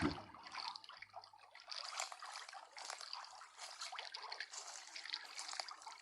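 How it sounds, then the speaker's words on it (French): Water of a river splashes and trickles as feet wade through it, a continuous bright watery rush with small surges, close and fairly soft, no talking. "On suit la rivière? on va marcher dans l'eau donc."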